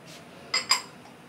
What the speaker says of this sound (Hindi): ये देखिए, इसको अच्छे तरीके से हम मिक्स कर लेंगे इस तरह से